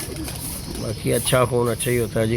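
Pigeons coo in repeated low, throaty bursts that grow louder halfway through, with someone talking over and between them.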